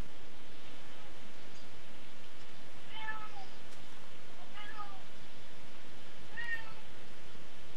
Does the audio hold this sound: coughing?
no